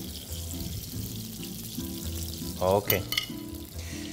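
Goose livers fry in goose fat in a hot pan with a steady close sizzle, joined near the end by a brief louder clatter of stirring against a faint tonal background.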